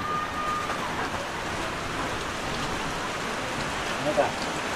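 Steady rain falls, a continuous broadband hiss of drops on surfaces with no clear breaks, fairly constant in level for the whole stretch.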